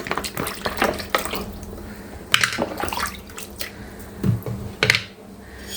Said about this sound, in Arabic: غادي نغسل حتى هاد الاعشاب